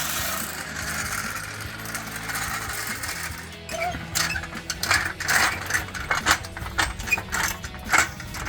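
A jack placed under the rear differential of a Ford F-150 is pumped to lift the truck. Rhythmic metallic ratcheting clicks and clanks sound close and fairly faint, growing busier in the second half.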